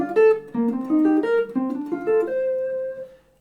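Clean jazz guitar runs a major 7th arpeggio shape up through a scale in a bebop style, with distinct plucked notes in a steady stepping rhythm that ends on a sustained ringing chord fading out.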